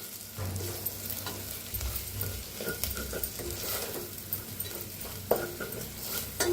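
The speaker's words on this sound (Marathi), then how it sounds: "छान मिक्स करून भाजूया." A spiced potato mixture with red chilli powder roasts in oil in a pan, a continuous soft sizzle broken by repeated scraping strokes of stirring.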